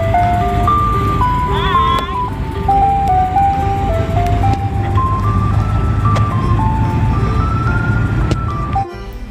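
A toy ice cream truck plays its jingle, a loud, close electronic melody of stepped tones with a chirping warble early on, then cutting off abruptly at the end.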